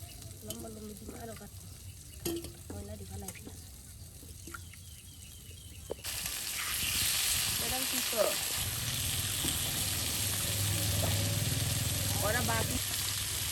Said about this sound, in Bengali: আর এদিকে কিন্তু মাছ ভাজা হয়ে গেল।